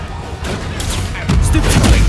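Bombarda and Confringo explosive spells going off in Hogwarts Legacy, a run of booming blasts that thicken and grow louder toward the end over a dense rumbling battle bed.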